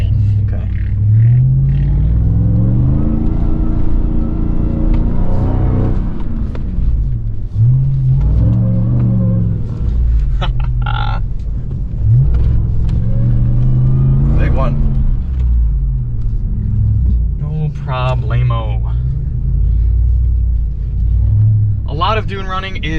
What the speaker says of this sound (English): Yeah, I get getting sick of exhaust drone, but I don't get sick of supercharger whine.